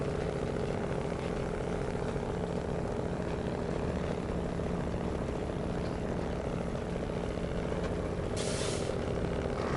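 Heavy truck engine in SnowRunner, fitted with an upgraded engine, drones steadily and loudly throughout, with a brief hiss near the end.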